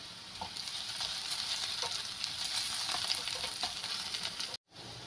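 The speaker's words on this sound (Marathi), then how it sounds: "त्याच्यात आपल्याला हे मिरच्या टाकून घ्यायच्या आहेत आणि मिरच्या चांगल्या परतून घ्यायच्या आहेत" Green chilies and onion sizzling in a pan for dhaba-style paneer bhurji, a continuous bright frying hiss with occasional stirring scrapes, then a brief cut to silence near the end.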